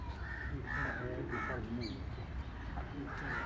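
Crows caw repeatedly in a steady series of harsh calls at an outdoor spot with caged birds, while someone speaks quietly in between.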